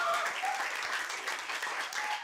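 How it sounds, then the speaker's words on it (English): An audience claps for a student's acceptance into a master's program at an Astronomy on Tap evening, the applause steady and fairly faint, as if heard from within a modest room. "So let's give Geo a huge round of applause"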